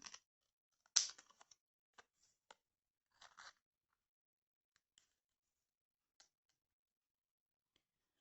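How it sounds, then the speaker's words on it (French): Scissors trim closely around a paper scrapbooking card, giving a few sparse, crisp snips that are quiet and close, with long silent gaps and no talk. "Je viens la découper vraiment au plus près."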